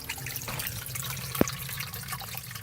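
Water trickles steadily into a sump pump pit fed by a French drain during light rain, a constant close splashing flow with one brief drip-like plink and no talking.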